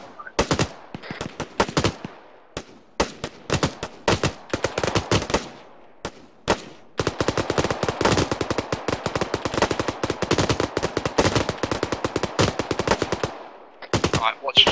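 Rapid automatic gunfire in the Arma 3 military video game, with long sharp bursts of shots, brief pauses, then a sustained stretch of fast firing, loud and close.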